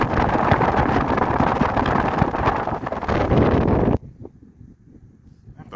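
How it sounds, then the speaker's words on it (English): Wind buffets the microphone in loud, roaring rumbles for several seconds on a Connecticut nature preserve trail, then cuts off abruptly into near quiet. "Pause every few seconds for gusts of wind. It'll muffle my voice"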